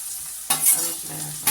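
Potatoes fry in a pan with spices and paste for potato rice, giving a close sizzle broken by two sharp scraping stirs of a spoon against the pan.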